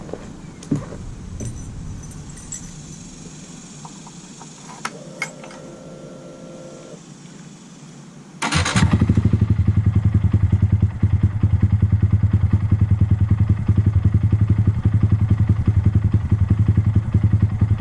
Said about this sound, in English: See if I can fire her up.